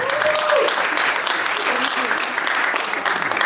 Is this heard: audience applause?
yes